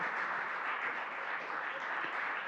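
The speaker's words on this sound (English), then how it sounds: "Can we have one loud round of applause for all our panelists?" An audience at a panel discussion event gives the panelists a round of applause, a faint, steady wash of clapping heard alone from a distance.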